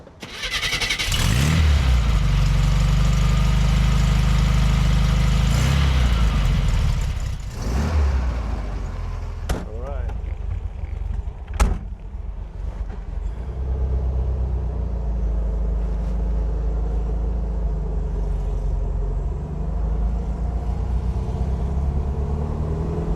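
A 1967 Volkswagen convertible engine cranks and fires up loud and close, revs, then settles into a steady drone while driving, with a couple of sharp clicks along the way.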